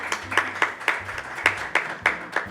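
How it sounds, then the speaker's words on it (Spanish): Small studio audience on a Spanish-language talk show clapping for a guest psychologist who specializes in grief: steady, evenly spaced hand claps from a few people, close and moderately loud, with no talking over them. "Un aplauso para ella, por favor."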